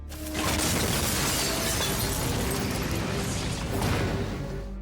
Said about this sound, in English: the Martian cockroach shattered the shuttle's bulletproof glass with a single punch